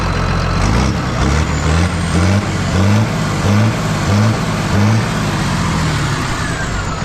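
A Massey Ferguson 3690 tractor hauling, its engine droning loud and close throughout, with a steady low rumble and a regular pulsing rhythm, and no talk over it.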